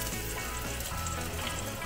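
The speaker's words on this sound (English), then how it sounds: "Sizzling." Franks and beans frying in a pan, a steady crackling sizzle heard up close and fairly quiet, with no talking over it.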